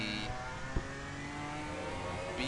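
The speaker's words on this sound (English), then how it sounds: "BMW M4 GT4 class." A BMW M4 GT4 race car in a racing game at the Nürburgring drones with a steady, even engine tone, briefly interrupted by a single soft thump.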